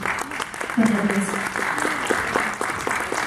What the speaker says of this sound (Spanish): Un voto de aplauso, por favor.